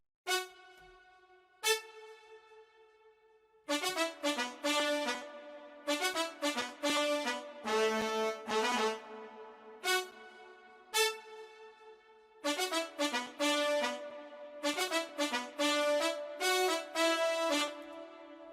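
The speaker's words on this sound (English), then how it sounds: "the first one we'll be talking about is a brass line that was played in this song" A bright synth brass line from a software plugin plays punchy stabs and short phrases, pausing briefly between bursts, loud and upfront with no voices.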